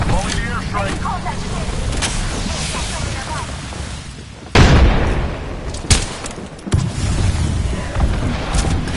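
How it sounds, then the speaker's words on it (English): Airstrike explosions in Apex Legends, with a heavy booming blast near the middle, another sharp impact soon after, and constant battle noise around them. "Only the airstrike!"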